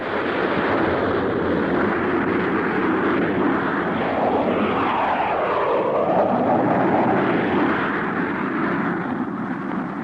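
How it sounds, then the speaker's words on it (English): Jet fighters take off from Hinck Field airfield, a continuous loud roar of jet engines that swells slightly and stays sustained for about ten seconds with no talk. "Six jet fighters were taking off from Hinck Field"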